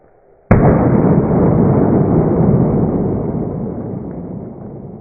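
An improvised blank fires in a DIY campsite perimeter trip alarm: one sharp, loud bang with a long, rumbling decay.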